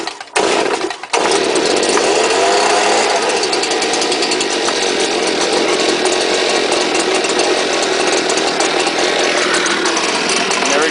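A cold STIHL chainsaw, its gas drained earlier, sputters through a couple of brief pulls and then catches, running loud and steady up close for the rest of the clip.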